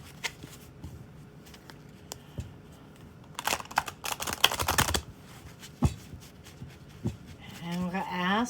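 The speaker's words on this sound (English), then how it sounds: "So I'm going to do a quick rifle shuffle here." A quick riffle shuffle of tarot cards gives a dense, crisp burst of fluttering clicks, with sparse taps before and after and a voice entering at the end.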